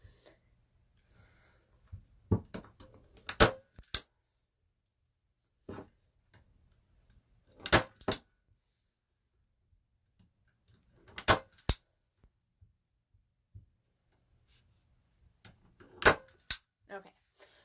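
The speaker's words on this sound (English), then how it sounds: "I am going to be careful to not staple on top of these staples" Staple gun driving staples through canvas fabric while making a bow holder: four sharp, close snaps spread out over the clip, often in quick doubled clicks, separated by quiet handling noise and soft talk.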